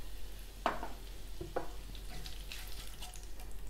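Curry leaves hit hot oil with a steady, crackling sizzle, with a couple of sharper spits and pops over the quiet frying.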